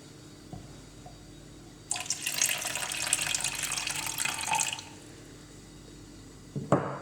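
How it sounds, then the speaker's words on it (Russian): Warm water poured from a tap to dilute juice for a homemade cough remedy, a bright steady gush lasting a few seconds after a quiet start, ending abruptly, then a short clunk. "Нам потребуется разбавить данный сок с водой, теплой водой"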